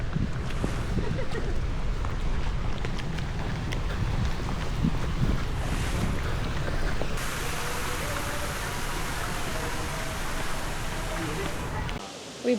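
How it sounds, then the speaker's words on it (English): Heavy rain pouring in Ho Chi Minh City, a steady dense wash of noise with wind buffeting the microphone, continuous and loud throughout, easing slightly near the end. "It's raining."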